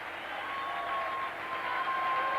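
Muted crowd applause at a 1997 rugby league match as the London Broncos and Bradford Bulls take the field, a steady, distant wash of clapping with no clear individual claps.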